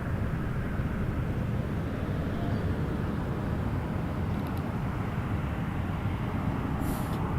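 A WestJet Boeing 737-700 at Toronto Pearson Airport produces a continuous low, heavy jet roar that stays steady and fairly loud, with no voices over it.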